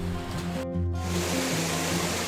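River water flows in a steady, loud rushing wash, close by and continuous, with a low tonal hum running underneath and no talk.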